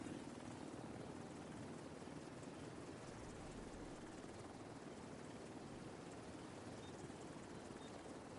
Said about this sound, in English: Extraction helo. Almost within range.